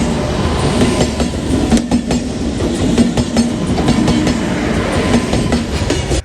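A train rolls past on a railway track near Araku, a loud steady rumble with rhythmic clickety-clack of wheels over rail joints carrying through the whole stretch.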